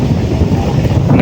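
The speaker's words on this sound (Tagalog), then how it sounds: "Lakas po ng hangin dito." Strong wind buffeting the microphone outdoors, a steady low roar with gusty rumble filling the short moment, close and loud, with no talking.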